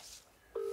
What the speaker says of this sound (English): let's phone him up